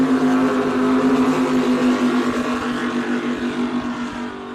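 A Supercat Extreme racing powerboat with long polished exhaust stacks roars past on Lake Macquarie during a race, its loud steady engine drone fading slightly as it moves away, with no talk.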